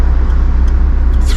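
A Renner Auto Speedster, a 356-style car, rumbles past in a short, loud burst, with a pulsing low engine note and road noise throughout.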